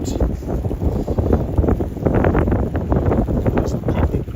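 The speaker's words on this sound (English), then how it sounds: "This is a very windy corner if the wind's blowing at all, which it is" Gusty wind buffeting the microphone at an exposed street corner during a snowy spring walk in Regina, a steady loud roar with no clear voices.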